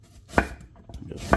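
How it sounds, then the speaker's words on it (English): Knife chopping food on a cutting board while cooking beef stew, two sharp close thuds about a second apart with soft handling noise between them. "Chop."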